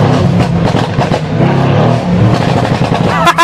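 A sleeper sports car making 801 horsepower revs hard, its loud, dense engine roar rising and falling steadily close by, with a sharp rising whine at the very end.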